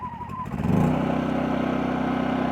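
A Champion 2000W dual fuel inverter generator, model 100900, starts up and settles into a steady, fairly quiet running drone, with a rising start in the first second.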